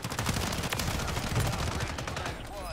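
Rapid video-game gunfire crackles in dense bursts of sharp shots, steady and fairly loud at first, thinning toward the end under faint player voices.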